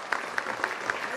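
Parents applauding at a school annual prize distribution, a steady wash of clapping from an audience with a few sharper claps standing out at a regular pace, heard at moderate distance.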